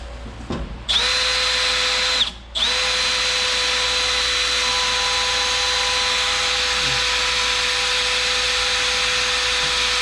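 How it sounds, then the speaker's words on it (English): A power drill bores a second hole into the metal of a BMW E36 drift car, a loud, steady whine that runs on with one short pause partway through. "So I'm gonna drill a second hole"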